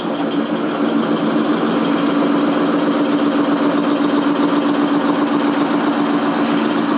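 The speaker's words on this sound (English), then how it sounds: "You can see that there's a lot more drag on the motor when you do have a load coming directly out of the alternator." An electric motor drives an alternator that is carrying an electrical load. A loud, steady mechanical drone with a constant low hum runs unbroken throughout, with no voices.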